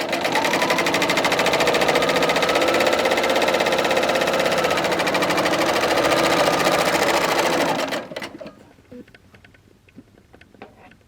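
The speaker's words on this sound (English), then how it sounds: "on my serger, I'm using a 3-stitch, 3-thread locking stitch" A serger runs a 3-thread overlock locking stitch in one continuous, fast, close mechanical whir for about eight seconds before stopping, followed by faint handling clicks.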